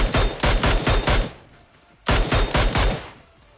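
Mini14 rifle fire in PUBG Mobile: two loud, close bursts of about five rapid shots each, separated by a short pause with fading echo.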